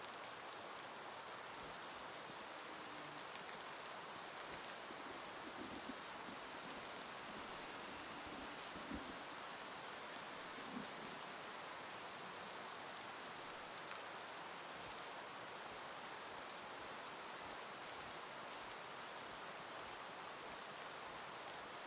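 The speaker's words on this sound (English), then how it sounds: "I can see the rain falling in front of the scope." Steady heavy rain pours in the Way of the Hunter hunting game, a dense continuous hiss that stays constant throughout, with no voices.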